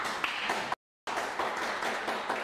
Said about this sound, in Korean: 세 분 발표자님께 다시 한번 그 감사의 박수 부탁드리고요